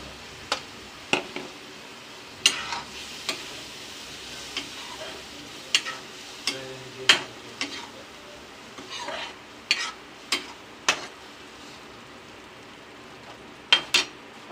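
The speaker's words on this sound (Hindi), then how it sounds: "अभी इसको हम 5 मिनट तक पूरा भूनेंगे।" Tomato, garlic and onion paste masala frying for sev bhaji, with a soft steady sizzle under intermittent sharp clicks and scrapes of a spoon stirring in the pan, close and fairly quiet.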